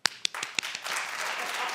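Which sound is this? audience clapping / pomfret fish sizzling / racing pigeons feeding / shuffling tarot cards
audience clapping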